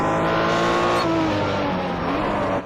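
A Porsche race car from the 1964 World Sportscar Championship on the Targa Florio, in a racing video game, its engine held at a steady high, loud revving whine with shifting pitch, close up and without talk.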